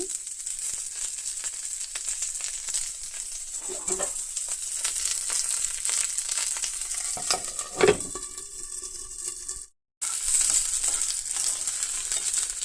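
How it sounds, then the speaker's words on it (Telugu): Green chillies and chana dal fry in a pan with a steady, loud sizzle, broken by occasional scraping stirs and a short dropout near the end, with no voices. "ఈ పచ్చిమిర్చి పచ్చిశనగపప్పు బాగా దోరగా వేయించుకోవాలి"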